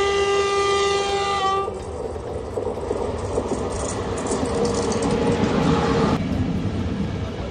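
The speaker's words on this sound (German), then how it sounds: "als sich im Nachbargleis plötzlich ein durchfahrender Zug nähert" A train passes on the adjacent track beside an evacuated, burning railcar: its horn sounds at the start, then a loud, continuous rushing roar of wheels and cars fills the rest close by.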